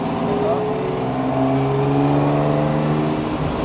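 A Ferrari sports car engine revs close by, a loud, steady growl whose pitch climbs slightly over a few seconds.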